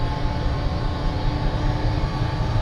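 Bell UH-1H Huey helicopter engine in a flight simulator spooling up slowly, a steady loud broadband turbine whine and rumble holding evenly throughout.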